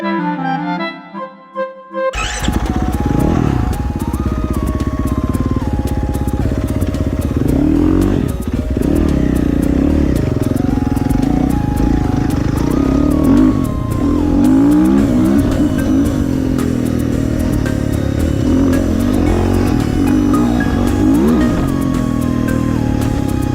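A light motorcycle being ridden, its engine droning loud and steady throughout with rising and falling revs as it shifts, plus wind and road clatter; silence at the very start before the engine sound kicks in.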